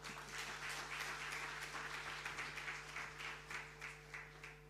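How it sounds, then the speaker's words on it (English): Audience applauding a speaker at a celebration event, rhythmic unison clapping, faint and distant over a steady electrical hum. "One more round of applause for Charles Mudiwa, Stand Big Kenya CEO."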